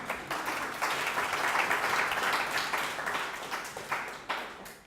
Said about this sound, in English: please give a very, very big applause for Billy Apple